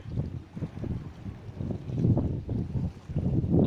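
Strong gusting wind at the Liverpool waterfront by the Pier Head, buffeting the microphone with low rumbling roars that swell and ease in waves throughout, loud and continuous with no voices.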